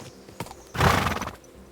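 A horse in the video game Kingdom Come Deliverance 2 gives a loud, close whinny lasting about half a second, preceded by a soft hoof clop, with no talk.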